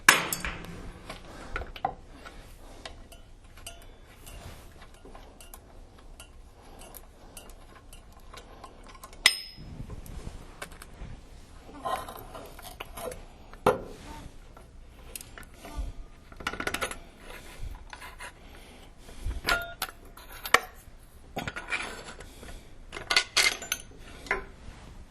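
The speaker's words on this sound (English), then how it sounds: "I'm using my metric adjustable." A metric adjustable wrench clinks and taps against car parts while working on a Firebird, giving sparse, close metallic knocks and rattles at irregular intervals.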